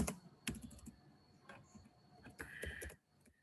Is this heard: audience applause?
no